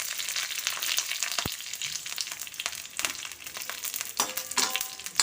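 Dried red chillies and curry leaves frying in hot oil with mustard seeds for a small onion sambar, a steady close sizzle with scattered pops and crackles, and no speech.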